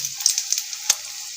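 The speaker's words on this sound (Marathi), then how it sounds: "आता एक एक पाला त्याच्यामध्ये डीप करून डायरेक्ट कढईत टाकणार आहोत। आता हे तेल तापलेलं आहे छानपैकी" Leaves of red amaranth dipped in batter sizzle in hot oil in a kadhai, a bright steady frying hiss with a few soft crackles and pops.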